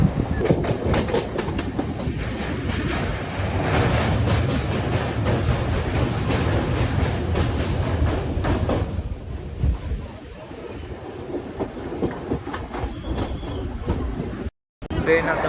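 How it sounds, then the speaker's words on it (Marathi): A MEMU commuter train runs on rails on the Diva to Vasai line, heard from inside the coach. A loud, steady rumble carries rhythmic clickety-clack from the wheels, and voices talk over it before a brief dropout near the end. "ट्रेन एक्झॅक्ट टायमिंगला निघाली तर आहे, पण 15-20 मिनटं लेट तर होते"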